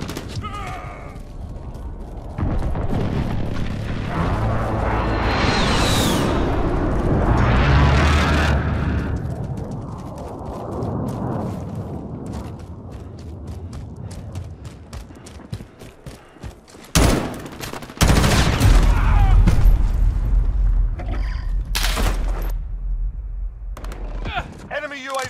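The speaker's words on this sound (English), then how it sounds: "Friendly precision airstrike inbound." Precision airstrike explosions in Call of Duty Modern Warfare arrive as heavy rumbling booms and sharp blasts amid gunfire and game voices, loud and dense, with a sudden burst of impacts late on.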